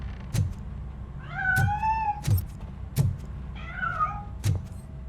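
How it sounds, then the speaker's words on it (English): A cat in the Robocop: Rogue City video game meows in drawn-out, wavering cries, two separate calls spread over a few seconds, close up over a low background hum with sharp clicking knocks at a regular pace. "That cat must be hiding inside."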